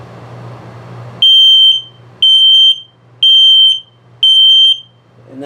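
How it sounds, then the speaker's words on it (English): An RV detector low-battery alarm in a 2022 CrossRoads Sunset Trail 242BH gives four long, piercing electronic beeps about a second apart, loud and nearby, over a faint low hum. "And then the low battery alarm."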